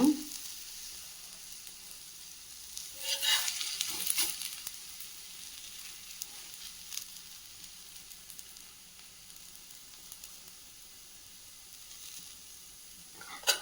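Soft, steady sizzling of ragi adai batter frying on a hot pan, a faint crackle running throughout with a few brief louder bursts, no talking.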